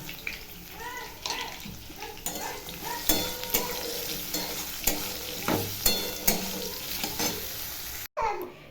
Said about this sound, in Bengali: ফোড়নে দিলাম কালো জিরে আর শুকনো লঙ্কা